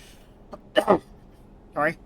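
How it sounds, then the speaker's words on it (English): A quick throat clearing, two short rough bursts close to the microphone, followed a moment later by a brief voiced sound. "had to clear my throat"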